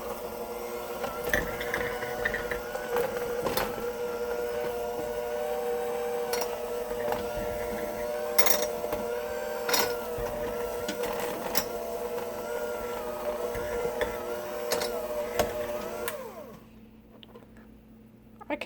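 A kitchen mixer runs steadily with a whirring, buzzing tone and intermittent clunks as it shreds food, then cuts out near the end, leaving near quiet.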